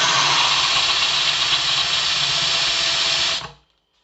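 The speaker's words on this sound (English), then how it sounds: "If anyone knows about drilling holes in tiles, it can be an absolute nightmare." A drill with a SabreCut bit bores a 10 mm hole through tile, a steady loud whirring grind held for about three and a half seconds before stopping abruptly.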